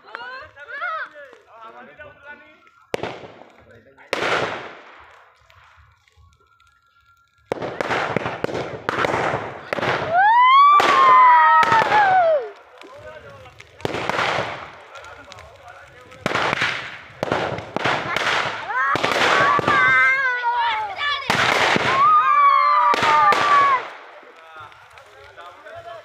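Firecrackers and bombs bursting at a Makar Sankranti celebration, a rapid series of loud sharp bangs with several pauses, close by, under excited voices and shouting.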